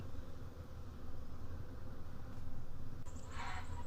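Honey bees emerge from the entrance of a top-bar hive, a faint, steady buzzing drone under a soft background hiss, with a brief higher whine near the end.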